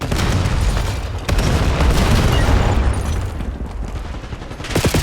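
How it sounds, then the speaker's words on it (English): A cluster grenade in Call of Duty Black Ops 7 going off as a loud rolling string of overlapping blasts, dense booms and crackle under surrounding gunfire, close and heavy, with no talk. "Enemy cluster grenade."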